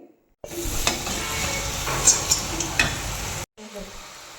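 Chakli fry in hot oil with a steady close sizzle and a few crackling pops, starting abruptly and cutting off after a few seconds.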